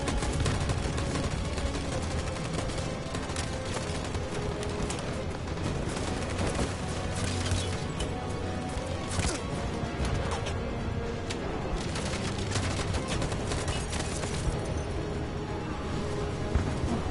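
Heavy gunfire in the video game Detroit: Become Human follows a fire command: dense, continuous volleys and bursts keep up at loud level for the whole stretch, with some crashing impacts mixed in.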